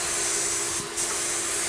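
An HVLP spray gun spraying top coat on woodwork hisses in a steady, loud airy blast with a constant mechanical hum beneath, briefly dipping before resuming.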